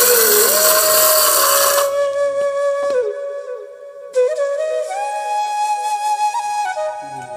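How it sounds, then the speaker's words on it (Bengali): An electric mixer grinder chops dry Maggi noodles. A piercing whine sounds up close, cuts out for about a second, then spins up again into a steady, slightly wavering motor drone without talk. "আমি মিক্স করে নিচ্ছি মিক্সিতে"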